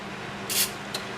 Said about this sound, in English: I'll spray the inside of my little scooper.